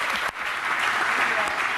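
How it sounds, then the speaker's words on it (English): Studio audience applause, a dense, fairly soft wash of clapping that dips briefly near the start before continuing evenly. "the audience gave her an applause break like I haven't seen ever"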